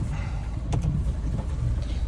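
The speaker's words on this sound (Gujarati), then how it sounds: "ફૂલ એકદમ વરસાદ ચાલુ ફૂલ વાઇપર ચાલુ" A car drives through heavy rain with its wipers running, a low rumbling engine and road noise under a wash of rain on the body, with a couple of brief swishes from the wipers.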